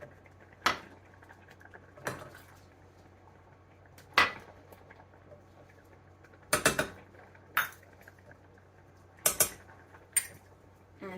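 A spoon stirs a thick rhubarb mixture in a pot, giving scattered clinks and scrapes against the metal at irregular intervals, close but fairly quiet, with a faint hum underneath.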